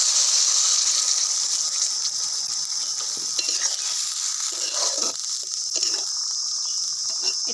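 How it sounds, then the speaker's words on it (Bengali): Water poured into a pan of frying green plantain curry sets off a loud, steady hiss and rushing gush that holds throughout, with bubbling and stirring underneath. "ভালো করে এটাকে কষানো হয়ে গেছে, এতে এবার জল ঢেলে দেব।"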